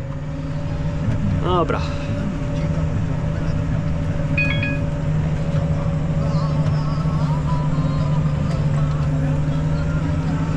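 A tractor pulling a fertilizer seeder uphill across a field in a reduced gear at about 8 km/h, a steady loud engine drone from the cab with a brief spoken word near the start.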